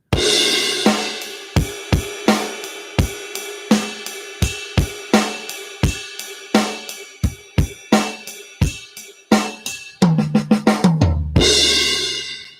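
A drum kit plays a steady groove line with sharp, punchy hits and ringing cymbals, ending in a quick fill and a crash, loud and close with no talking.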